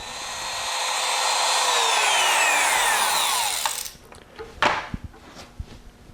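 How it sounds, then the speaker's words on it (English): Wood router cutting material during a drag race Powerglide transmission build, a loud, steady high-pitched whine with falling tones for about four seconds, then spinning down into scattered clunks and handling knocks. "I'll adjust the router down another 1/16 of an inch and do some more"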